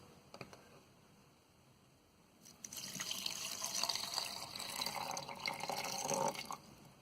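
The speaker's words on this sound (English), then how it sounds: "you have to fill the water till it covers the Maggi" Tap water runs into an electric kettle over a block of Maggi instant noodles, a steady splashing fill that starts quietly, swells louder for several seconds, then cuts off.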